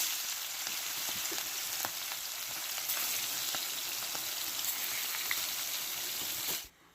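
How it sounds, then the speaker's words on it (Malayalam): Fish frying in oil in a pan gives a steady, close sizzle with scattered small pops and crackles throughout. The sound cuts off abruptly near the end. "അപ്പോൾ ഞാൻ പാനിലേക്ക് എണ്ണ ഒഴിച്ച് മീൻ പൊരിച്ചെടുക്കുവാണ്"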